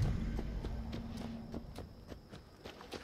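Horse hooves clop along at an unhurried walking pace in the video game Assassin's Creed Valhalla, a regular series of light knocks over a low ambient rumble.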